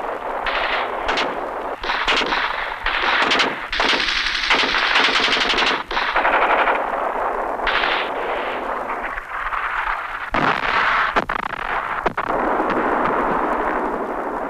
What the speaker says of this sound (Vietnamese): Trong tiếng đạn pháo cấp tập còn nghe âm vang tiếng gầm rú của xe tăng